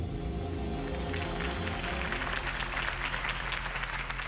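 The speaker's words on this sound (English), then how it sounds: "If only Mr. Wayne, my campaign's largest backer, could have heard that applause" Crowd applause in a Batman video game, greeting Harvey Dent's campaign speech: steady, dense clapping from a large audience holding at an even level throughout, with no voices over it.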